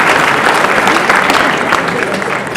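A gala audience at an evening event for local political sections in Liège bursts into dense, sustained applause, a loud, steady wash of many hands clapping with no pauses.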